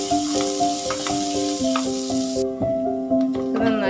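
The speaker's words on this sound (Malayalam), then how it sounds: "ഒരു രണ്ട് സവാളയാണ് നമ്മൾ എടുത്തിട്ടുള്ളത്. അത് നന്നായി ഒന്ന് വഴറ്റിയെടുക്കണം." Two chopped onions sauté in a pan for prawn cutlets with a close, steady sizzle and occasional stirring scrapes, while music plays over it.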